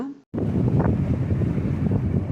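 A houseboat motor runs on the Alappuzha backwaters, a steady, loud low rumble with wind buffeting the microphone, starting abruptly after a brief silent gap and continuing without pause.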